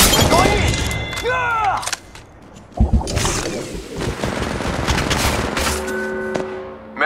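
R-301 Carbine fire in Apex Legends Mobile, loud rapid automatic bursts with sharp impacts and a heavy boom, mixed with game voice lines and other battle noise.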